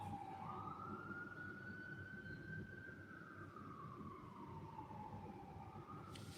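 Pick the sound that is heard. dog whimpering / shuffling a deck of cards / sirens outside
sirens outside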